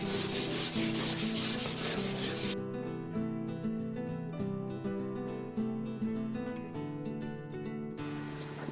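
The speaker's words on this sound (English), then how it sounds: "we begin by basically covering the whole surface with the vine charcoal." A soft vine charcoal stick rubbed back and forth over a drawing surface, a close, steady scratchy swishing with a rhythmic stroke pattern throughout.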